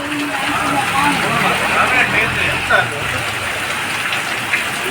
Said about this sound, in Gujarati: હવે વરસાદ થઈ ગયો